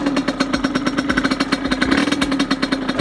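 An Aprilia SX50 motorcycle's small 50cc engine idling close by, a steady rapid buzzing putter with a slight rhythmic pulse throughout.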